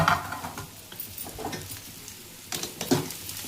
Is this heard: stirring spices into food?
yes